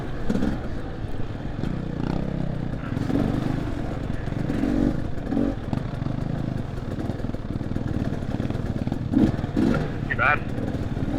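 A Honda 450 dirt bike engine runs steadily on a wet trail, a rough low drone that stays constant throughout, with voices talking over it.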